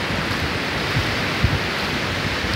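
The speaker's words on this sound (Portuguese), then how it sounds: "Olha o barulho do mar." Steady broadband wash of Atlantic Ocean surf, like waves rolling and breaking nearby, constant and fairly loud with no clear gaps or voices.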